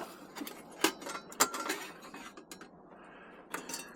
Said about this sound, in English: I'm going to go ahead and slide the ash pan out.